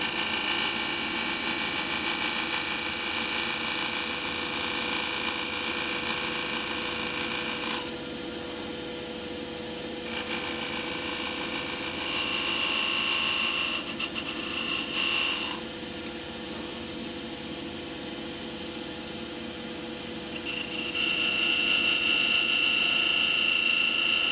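Skew chisel cutting an ash wood box on a spinning lathe, a loud continuous scraping hiss with a steady motor hum beneath, cutting away and returning in long passes.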